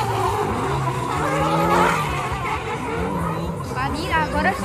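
BMW drift car fitted with an AP 2.0 turbo engine and nitro skids hard at a drift championship event, tires squealing in long sweeping screeches over a roaring engine, with crowd chatter and talk mixed in throughout.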